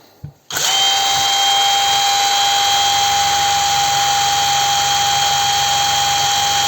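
A SHIDOKU SHG1 cordless impact wrench spins up at its second speed after a brief pause, then holds a loud, steady, high whine right at the microphone without stopping.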